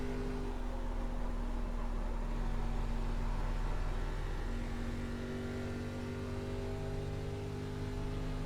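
An ARCA Menards Chevrolet Impala race car engine roars at sustained high revs on the Charlotte Motor Speedway oval, a loud, steady in-car drone with layered harmonic tones and no talk over it.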